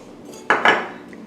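Metal whisk clattering twice against a pan while dry ingredients are mixed for banana pudding, two sharp close scraping strikes after a quiet lead-in.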